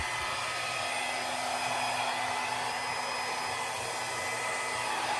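A hair dryer blowing acrylic paint across a large canvas during a Dutch pour, a steady loud whooshing hum with a constant motor tone, close and uninterrupted, with no talking.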